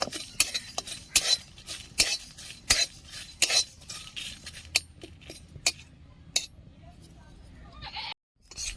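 Cumin seeds and dried red chillies dry-roasting without oil, stirred in a pan with a spoon: repeated sharp metallic scrapes and clinks in an uneven rhythm, close and fairly loud, with quieter rustling between strokes.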